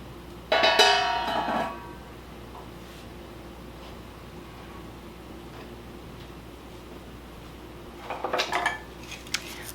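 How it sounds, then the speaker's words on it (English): A metal lid is set on a pot on a wood stove, giving a close, bright clatter of metal on metal, then a second shorter rattle several seconds later in a quiet room. "so I'm going to put the lid on, wait for it to boil"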